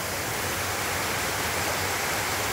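Waterfalls along a mountain trail roar as a constant broadband rush of falling water, steady and fairly distant, with no other sounds.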